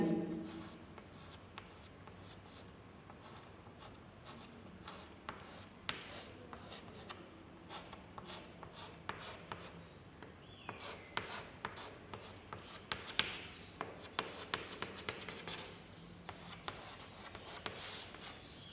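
Pen scratching letters into a school notebook during a Hindi writing lesson, quiet and close, with soft strokes that grow busier into quick clustered taps near the end.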